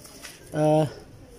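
A single short pigeon coo, clear and close, rises briefly out of a quiet background at a loft where a pair of pigeons is being set up.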